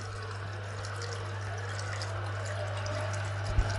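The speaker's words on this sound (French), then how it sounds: "je vais remplir avec de l'eau." Water pours steadily into a container, a continuous even rush of liquid that holds at the same level throughout, with no voices.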